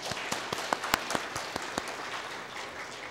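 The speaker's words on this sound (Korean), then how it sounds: "한번 감사 박수 한번." Church congregation applauding after a sermon testimony, a short burst of many hands clapping irregularly at moderate distance that thins out and fades within a few seconds.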